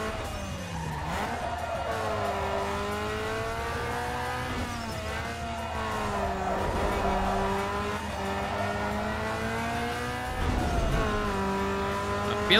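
A Nissan Skyline race car in Need for Speed Underground 2 drives hard, its engine droning and climbing through repeated gear changes, with tire squeal and skidding under a constant loud roar.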